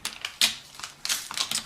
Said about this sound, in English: because that backing paper is there, now I can just peel it off.